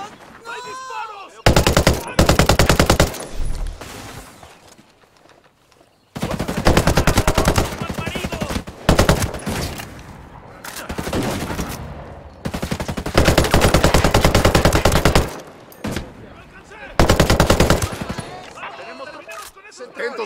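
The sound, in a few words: gunfire from video game Ghost Recon Breakpoint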